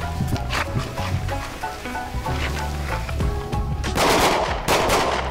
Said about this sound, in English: It's gonna be 2 rounds, good follow through on every single shot.